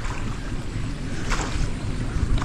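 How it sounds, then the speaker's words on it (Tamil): Rainwater rushes steadily through a rural canal in a continuous broadband wash. It is close and fairly loud, with wind buffeting the microphone and no talking. "யாருங்க எவ்வளோக்கு தண்ணி போயிட்டுருக்கு பாருங்க"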